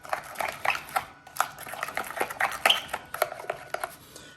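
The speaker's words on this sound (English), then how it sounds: "we're gonna give a good mix here" Mayonnaise being stirred into a sauce in a bowl, with repeated clinks and scrapes of a utensil against the bowl in an irregular rhythm, close and moderately loud, without talk.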